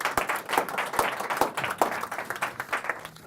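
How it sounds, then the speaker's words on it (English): Audience applause at a public-access magic show rings out as scattered, fairly quiet clapping from a modest crowd, uneven individual claps with a few sharp louder hits. "Give my big assistant, my assistant, a big round of applause."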